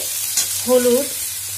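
Lote fish sautéing in a pan with turmeric and salt, a steady close sizzle with a brief burst of stirring scrapes in the middle, no talking.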